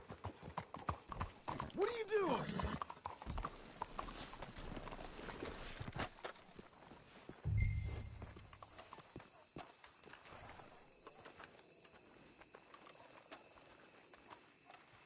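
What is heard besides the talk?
horses walking, from video game Red Dead Redemption 2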